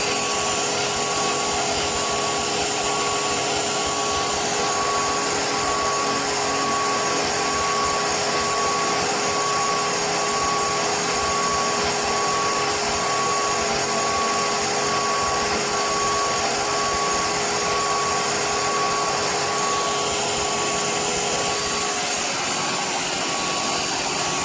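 A CNC machine running a finishing pass while engraving a knife, a loud continuous whine and roar with steady tones, unbroken for over twenty seconds and no voices.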